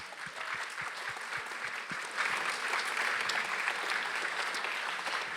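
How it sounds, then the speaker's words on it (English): An audience claps through a round of applause at a talk on British pilgrimage, greeting Alice Loxton, Daniel Wilson and Luke Sherlock as they come down the stairs. Dense steady clapping fills the room, growing a little louder partway through with no talk over it. "Give them a round of applause."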